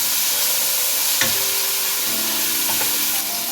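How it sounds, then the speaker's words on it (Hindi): Chopped tomato fries in a pan with garlic ginger paste for matar pulao. A continuous broad hiss of sizzling runs throughout, with a few brief spoon or spatula scrapes and no talking. "अब इसको टमाटर के साथ भून लें।"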